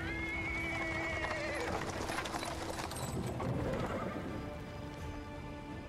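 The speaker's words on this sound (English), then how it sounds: "He's interrupted by the sound of wheels rolling on the paving stones." In the video game Pathfinder: Wrath of the Righteous, a horse-drawn cart rolls over paving stones with a continuous rumbling clatter of wheels and hooves, and a horse whinnies faintly at the start.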